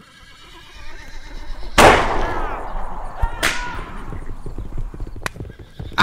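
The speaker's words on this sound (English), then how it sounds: "they've thrown Osgood towards the fire and started running to their horses" In a radio drama scene, horses startle and bolt away from a fire: two sharp, loud neighs ring out close by, followed by a steady patter of galloping hooves fading under the action.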